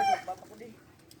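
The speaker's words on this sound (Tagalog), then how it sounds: "the chicken is just like trying to hatch their own eggs" A hen sitting on a clutch of eggs gives a few soft, close clucks and low grumbles over about a second, faint and brief.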